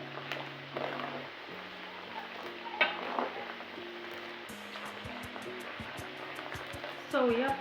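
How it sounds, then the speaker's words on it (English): Omena, small silver cyprinid fish, deep frying in oil make a soft, steady sizzle with faint utensil clinks over a low background hum. "frying omena or deep frying it helps to lock in the flavors"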